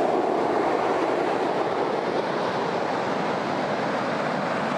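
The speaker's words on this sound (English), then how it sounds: "Big waves today." Big surf on a beach at Bang Tao, Phuket, Thailand, a loud, continuous broadband roar of breaking waves with no gaps, close and steady throughout.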